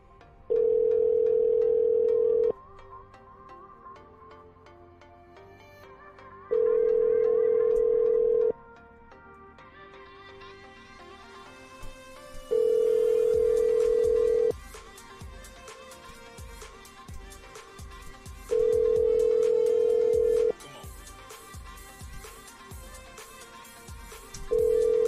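Telephone dialer tone repeating in long steady bursts about every six seconds, loud and clean, with quieter buzzy music-like sound filling the gaps between tones.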